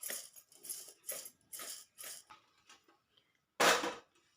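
Lemon pickle ingredients with cloves being stirred and mixed, a series of close scraping, clinking strokes in a steady rhythm, then one louder scrape.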